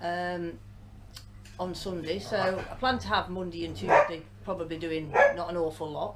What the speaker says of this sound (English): Excuse the dogs again, always barking when I'm on this video.